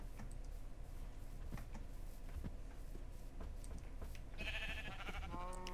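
A sheep bleats in a video game, a couple of quick wavering calls near the end over a steady background hum with faint ticking clicks.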